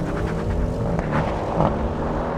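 An Audi RS6 and a BMW M5 drag racing side by side, a loud sustained engine roar with rising tonal drone and slight surges, close and continuous without talk.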